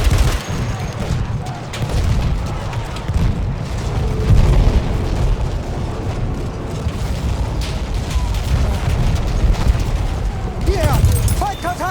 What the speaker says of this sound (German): Ich werfe die Granate!